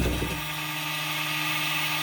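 Kawasaki jet ski starter spinning freely without turning the engine, a brief rough burst followed by a steady electric whine that holds constant.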